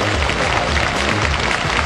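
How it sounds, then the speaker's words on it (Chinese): An audience at the Miss World China 2010 beauty pageant final applauds: dense, loud, sustained clapping from a large crowd that fills the whole moment, with no talk over it. "我们再次把掌声送给21号选手许继丹。"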